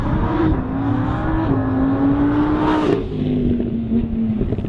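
Lamborghini Huracan engine revving under throttle, a loud, close, sustained tone that climbs in pitch, eases, then rises again through several surges before settling.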